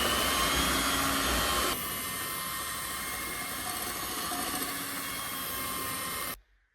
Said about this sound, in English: I've taken 240 grams of sugar, put it in a bowl with 4 egg yolks, and we're going to whisk that up